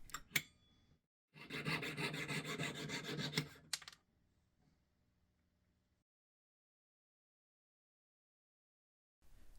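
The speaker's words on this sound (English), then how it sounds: "That size piece is cut using the jeweler's saw." A jeweler's saw cuts a small piece from a ring shank, making a quiet, close rasping stroke sound for a few seconds between brief metal taps, with silence afterward.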